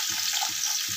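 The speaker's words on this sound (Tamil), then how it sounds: "இப்போ நம்ம கட் பண்ணி வச்சு இந்த வெங்காயத்தை சேர்த்துக்கலாம்." Chopped onions hit a pan of frying spices and bay leaf for seeraga samba chicken biryani, giving a steady, close oil sizzle with a few soft, regular thumps underneath.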